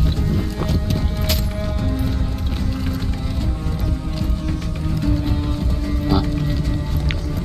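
Horse hooves clip-clop at a steady trotting rhythm while riding in the video game Far Cry 6, over a constant bed of outdoor ambience, with a few brief clinks standing out.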